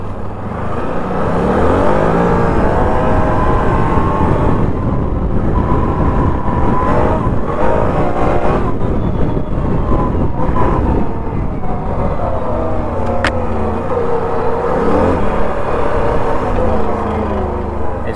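Can-Am Renegade XC 1000 ATV, after sitting seven months, runs while being ridden: a loud, close engine drone with rising and falling revs as throttle changes, continuous throughout with no talking.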